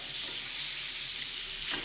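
Steady, close sizzling of steak frying in a hot pan, a constant bright crackle with no talking.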